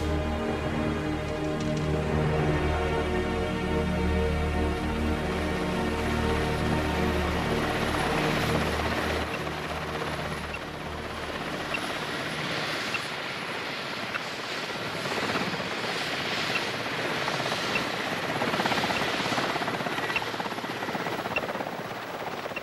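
A helicopter's rotor and engine drone steadily and loudly throughout in a snowy tiger-tracking setting, a continuous thrumming roar with no voices.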